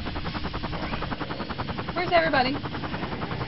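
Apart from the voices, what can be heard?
helicopter flying in video game Killing Floor car mod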